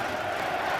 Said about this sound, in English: a crowd already in good voice